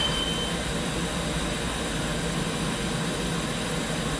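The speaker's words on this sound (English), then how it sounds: "spindle turns on, rotates in reverse so as not to damage the tips." A CNC machine spindle spins in reverse beside a Renishaw tool setter, producing a steady, dense mechanical whir with a broad noisy hiss that holds constant and fairly loud throughout.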